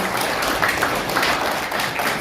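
Audience applause at a symposium in a National Assembly meeting room, a dense, even wash of clapping that holds steady throughout at moderate loudness, with no voices heard.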